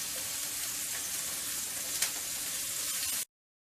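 Sausages fry in a hot pan with a steady, close sizzle and crackle running unbroken, one slightly sharper pop near the middle, before it cuts off abruptly.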